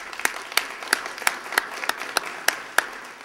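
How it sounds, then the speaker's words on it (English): An audience applauds at a candidates debate in an indoor hall. Around ten sharp, distinct claps are spaced through a moderate burst that sounds like a small crowd, with no talking over it. "I think we can give them a round of applause for that first thing."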